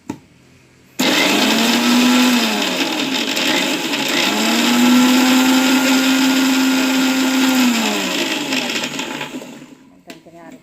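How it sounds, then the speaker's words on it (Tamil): An electric mixer grinder blends ingredients for a chickpea kurma. After a short pause it starts abruptly with a loud, steady whirring roar and a humming motor pitch that rises and falls, running for about eight seconds before winding down. "அதையும் மிக்சியில் ஒரு சுற்றிக்கணுங்க"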